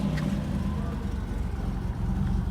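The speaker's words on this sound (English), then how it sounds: "All right, so the idle just corrected itself" A 1987 Buick Grand National engine idles nearby with a steady, low rumbling drone and even pulsing that runs unchanged throughout.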